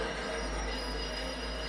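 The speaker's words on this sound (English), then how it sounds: "Bring the train up here." A train in a video game rolls along with a constant deep rumble and a thin, sustained metallic wheel squeal, steady and unbroken, with no voices.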